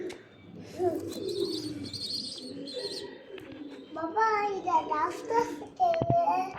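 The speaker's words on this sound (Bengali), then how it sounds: "এটা খিদা লাগছে, খাইতে ডাকতেছে।" A hungry pigeon chick squeaks and chirps for food in a string of thin, rising, repeated calls, close and fairly quiet, with short gaps between bursts.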